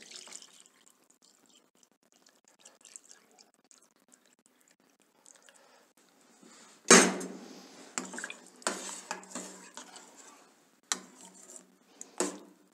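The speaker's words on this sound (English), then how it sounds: "Now clear meat is ready and we add more cold stock to it." Cold stock is poured and mixed into clear meat for mutton consommé, giving a splash followed by scattered liquid sloshes and clinks of a utensil against the pot after a quiet stretch.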